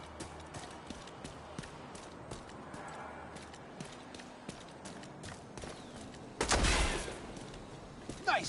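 Gunfire in The Division 2, played in realism mode, comes as scattered sharp shots over a low rumble, with a louder, denser burst of fire near the end.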